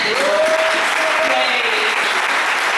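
A church congregation claps its hands in praise, a loud, dense, sustained wash of applause with a voice calling out briefly over it.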